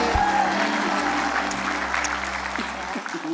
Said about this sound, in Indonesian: Tepuk tangan buat Eyang Titi.